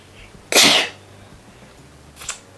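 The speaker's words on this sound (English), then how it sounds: "I'm gonna sneeze." A single loud, explosive sneeze bursts out close up, followed a moment later by a brief, softer breathy sound.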